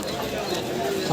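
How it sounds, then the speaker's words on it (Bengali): Caged pigeons, including white Madrasi birds, coo at the Tala Galiff Street pigeon market, with soft cooing beneath steady crowd chatter and market noise. "কতগুলো মাদ্রাসি পায়রা সাদা মাদ্রাসি জিরিয়া মাদ্রাসি দেখুন পায়রাগুলো"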